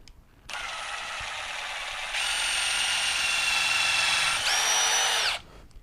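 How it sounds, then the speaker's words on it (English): A power drill bores into the frame of a DIY flatbed being built for a Ford Ranger, with the frame flipped over. The motor whines loud and steady for about five seconds, rises in intensity midway, then dips in pitch before stopping. "Now we have it flipped over. Now we're just going to go ahead and drill."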